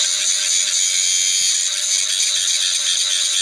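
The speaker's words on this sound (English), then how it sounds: "wherever we don't have a keyhole, we're gonna take a cut disc and we're gonna feather it" Cut-off disc grinding and feathering weld tacks on a 2-inch schedule 160 steel pipe: a continuous high-pitched whine with a hissing, buzzing edge, loud and close, held steady with no talking.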